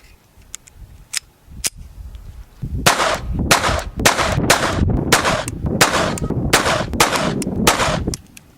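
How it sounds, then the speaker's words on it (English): A Ruger SR22 pistol fires about a dozen sharp, loud shots at an outdoor range in a fast, slightly uneven string, preceded by a few faint distant pops. "bring out the trusty Ruger SR22 here. We've done a review of this before. We're just going to shoot a few rounds"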